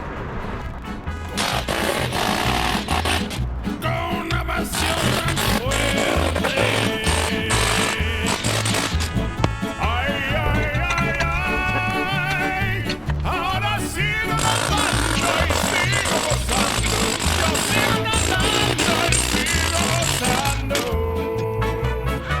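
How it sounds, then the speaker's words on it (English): A hammer drill pounds continuously and loudly, a dense rattling roar with brief pauses, breaking open the brick cap of an 1800s cistern close by. "I've got my hammer drill, so let's bust this thing open"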